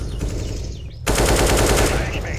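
Rapid automatic gunfire in Counter-Strike: Global Offensive erupts after a quieter moment, a loud, sustained burst of rattling shots close up through the rest of the clip.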